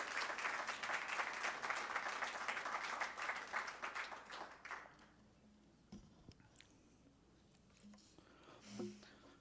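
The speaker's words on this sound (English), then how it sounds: "Let's give some warm applause to Bradley Armstrong." Audience at a church history symposium applauds a speaker, a dense steady clapping for about five seconds that thins out and fades to quiet room noise with a few faint rustles.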